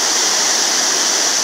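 A small river swollen with water rushes past a watermill, making a loud, steady, close-up roar of flowing water with no pauses.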